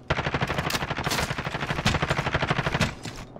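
Rapid automatic gunfire in Call of Duty: Modern Warfare, a dense, loud stream of rhythmic shots lasting about three seconds before tapering off.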